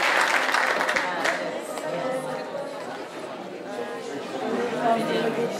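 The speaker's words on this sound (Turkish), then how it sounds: "Alkışlarınızla." Applause and cheering from a choir concert audience, a dense wash of clapping mixed with crowd chatter that holds steady throughout, loudest at the start.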